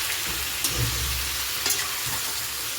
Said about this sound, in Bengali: দিয়ে দিয়েছি এবার নেড়ে নেব মাংসটাকে